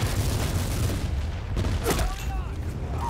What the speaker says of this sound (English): there's definitely some gunfire coming over there